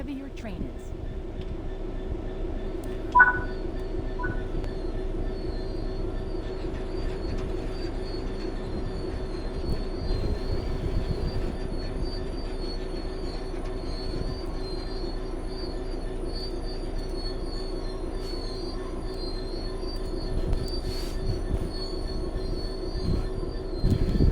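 Wheels squeal as a train brakes in the Train Sim World 3 video game, a long thin steady screech held over a low rumbling drone for the whole stretch, with faint clicks and a couple of brief sharp knocks.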